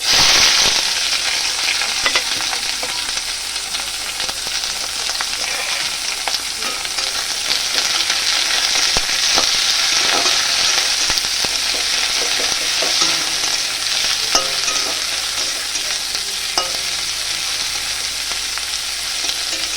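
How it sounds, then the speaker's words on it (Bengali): Chopped onions and green chillies frying in a pan alongside dried red chillies give a loud, close, continuous sizzle, with scattered crackles and soft stirring scrapes throughout and no talking. "তো এবার আমার পেঁয়াজগুলো ভাজা হয়ে গেছে"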